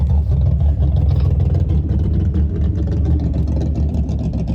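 A big drag racing car with a parachute on the back idles loudly at Santa Pod during the Springspeed Nationals, a deep, steady, lumpy engine rumble, close and continuous.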